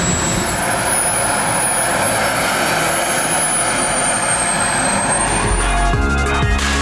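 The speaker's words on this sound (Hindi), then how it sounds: "इस वक्त जहाज़ स्टार्ट है और यहाँ तक हीट आ रही है उसकी।" A remote-controlled jet plane's engine runs on the ground in Lahore, a loud, steady, high-pitched turbine whine and roaring rush that holds throughout with a slight wavering pitch, heard close up.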